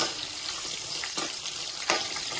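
Peanuts fry with green chillies in a pan, giving a close, steady sizzle with occasional soft stirring scrapes throughout.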